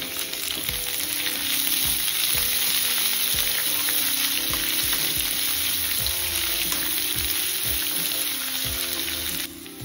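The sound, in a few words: chopped onions frying in oil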